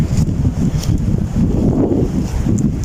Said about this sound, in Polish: Cały czas mocno wieje u góry.